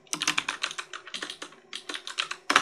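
Rapid bursts of typing on a computer keyboard while labelling rig controls in 3D character-rigging software, close and crisp, in short uneven runs of keystrokes with brief pauses between them and no talking.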